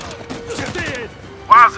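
Gunfire in the game Uncharted 4, a quick run of shots crackling under dubbed voices talking, then a sharp louder burst near the end.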